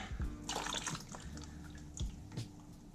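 Coolant drains from a Yamaha XSR900 motorcycle with a faint, close trickle and splash, broken by a few drips.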